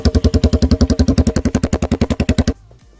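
A Honda CBX cafe racer motorcycle engine with a loud exhaust runs nearby, pulsing in a fast, steady, heavy throb for about two and a half seconds before it cuts off abruptly into quiet.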